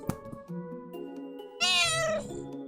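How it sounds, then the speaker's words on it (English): A cat meows loudly and close by, one long drawn-out, wavering call standing out over quieter background tones from a game playing. "listen to Bread meowing, I guess, for a couple of minutes while I wrap up the recording"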